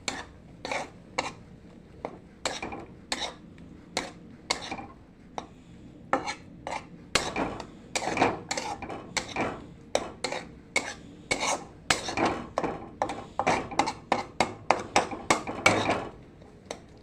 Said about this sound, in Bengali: ভালো করে একটু নাড়িয়ে নেব।